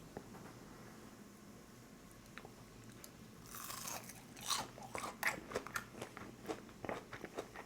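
Crunchy fried shrimp tempura, fried in olive oil, is bitten and chewed close up: faint background at first, then a run of crisp crunches and crackling bites growing louder over the last few seconds.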